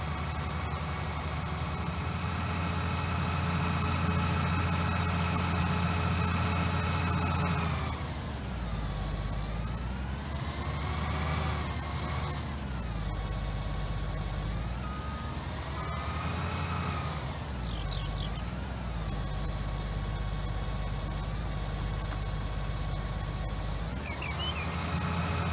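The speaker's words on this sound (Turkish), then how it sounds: "bizim biçer de var, biraz yavaş çalışıyor ama artık idare ediyoruz" Combine harvester in Farming Simulator 19 drones with a loud, steady engine hum, its pitch dipping and rising several times as it works, with thin high tones layered over it throughout.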